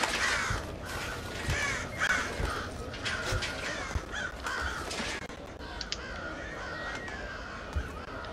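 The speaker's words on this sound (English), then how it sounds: "Oh, these birds are already alerted" Several crows caw repeatedly in a Thief video game rooftop scene, harsh calls recurring throughout at moderate distance over a steady ambient background.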